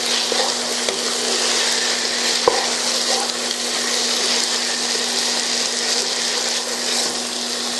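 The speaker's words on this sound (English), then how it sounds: "now we're going to add our 1/2 cup of mixed vegetables" Half a cup of mixed vegetables hits a frying shepherd's pie filling in a pan, giving a constant loud hiss and sizzle under a low steady hum, with one brief knock partway through and no speech.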